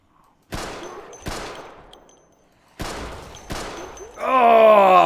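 Pistol fire in Project Zomboid: four sharp, loud single shots spaced about a second apart, each with a short decaying tail. A groaning voice-like sound rises at the end.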